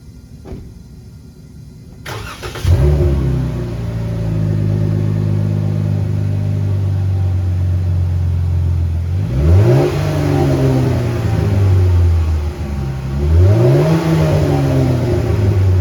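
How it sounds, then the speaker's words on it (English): A V6 car with a Hemi dual exhaust starts up and idles loudly, then is revved twice with deep, rising and falling engine roars close by. "the exhaust gives the V6 a little bit of a lower"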